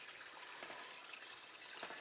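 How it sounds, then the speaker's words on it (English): Water from a reservoir flows into the intake of a ram pump outdoors, making a steady, moderately close hiss and rush with no talking over it. "You can see where the water's flowing in."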